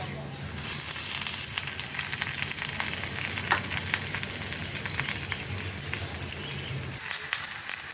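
Eggs wrapped in pumpkin leaves fry in oil in a wok on low gas, producing a loud, continuous close sizzle with crackling spatters throughout.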